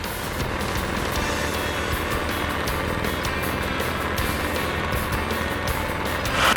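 A light airplane taking off, its engine a steady, loud drone at full power with constant wind rush, no voices over it.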